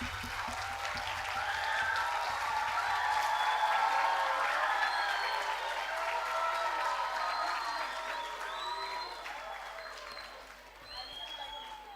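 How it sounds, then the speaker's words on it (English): Audience applause at the AISMUN 2025 closing ceremony, a moderately loud, steady round of clapping from a crowd that gradually thins toward the end. "Give them a huge round of applause."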